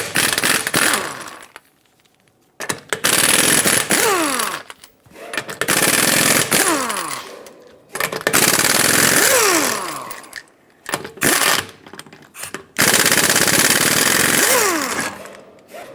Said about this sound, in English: with a 21mm socket, remove all 5 of your lug nuts and then pull the wheel off